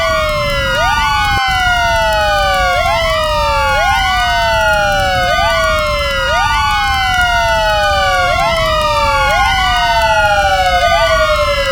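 Several fire engine sirens wail together in overlapping, repeating rising and falling sweeps, loud and continuous, played as a sound effect for a Lego fire scene with ladder and engine companies responding.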